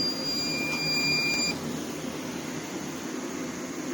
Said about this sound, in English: You can hear the alarm. It fired off at 480 degrees.